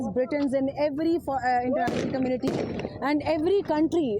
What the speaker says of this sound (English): You can hear the gunshots as well